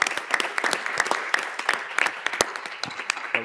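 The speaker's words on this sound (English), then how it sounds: "Let's give him a big round of applause" A crowd at a Board of Education meeting applauds with many overlapping hand claps, a steady dense patter close by, with no talking over it.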